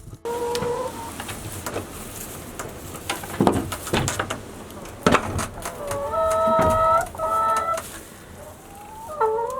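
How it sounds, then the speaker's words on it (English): Chickens in a hen house, with repeated clucks and short calls up close among scattered knocks, scuffs and bangs. "I'm actually in the hen house with the chickens"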